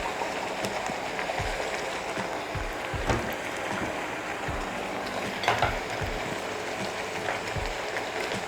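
Boiled mung beans stirred into sweet grated coconut in a pan, a steady soft scraping and faint sizzle with scattered light taps of the spoon against the pan, fairly quiet and continuous without talk.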